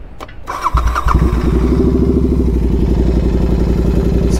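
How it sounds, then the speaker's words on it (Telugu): Motorcycle engine starting up for the first time after a performance air filter was fitted: a cranking clatter, then it fires and settles into a loud, steady, throbbing idle, close up with no talk. "సో ఎయిర్ ఫిల్టర్ ఇన్స్టాల్ చేశాక first startup after the air filter"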